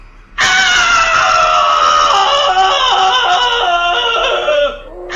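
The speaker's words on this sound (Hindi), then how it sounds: "लाला चीख उठा।" A loud, drawn-out human scream serves as a sound effect in a Hindi horror story about a cursed village field, wavering and slowly falling in pitch for about five seconds before cutting off, heard alone.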